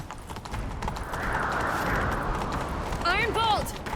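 Horse hooves clip-clop at a gallop in The Witcher 3: Wild Hunt, a steady rapid beat under game ambience, with a horse whinnying near the end.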